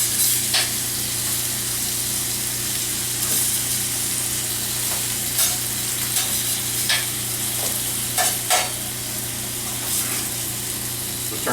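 French toast sizzles steadily on a griddle with a constant broadband frying hiss, punctuated by occasional soft clicks and pops, close and fairly loud, with no talking.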